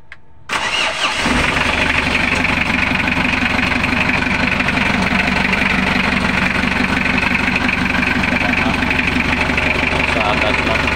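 A car engine with a knocking fault, after hose repairs, cranks and starts, then settles into a loud steady close idle running several seconds, with a voice talking over it.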